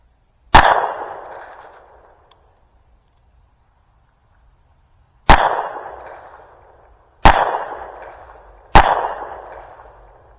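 Four loud, sharp gunshots ring out at a target, one alone, then a long pause from a misfire of cheap ammo before three more shots in fairly quick succession, each with a decaying echo.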